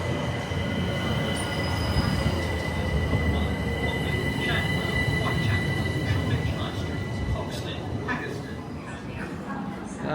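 A London Underground Hammersmith and City Line train pulls into the platform with a steady rumble of rolling wheels and faint squeals, loud and continuous throughout.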